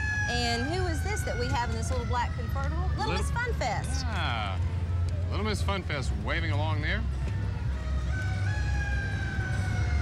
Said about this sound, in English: as the Hands-On Museum fire truck goes by. You can hear the siren there in the background.